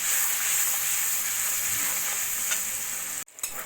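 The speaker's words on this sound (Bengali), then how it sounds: "এবার মশলাটাকে লো ফ্লেমে ভালো করে কষিয়ে নেব।" Spice paste with salt and turmeric frying on a low flame for potato curry, a steady close sizzle throughout that drops away sharply near the end, with no talking.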